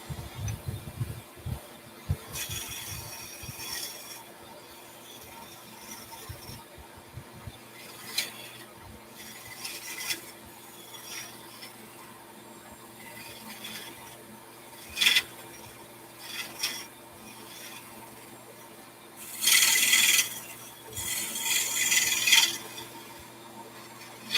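A square-tip carbide tool scrapes a wooden egg spinning on a lathe, giving intermittent raspy cutting bursts over a low steady machine hum, with louder passes near the end.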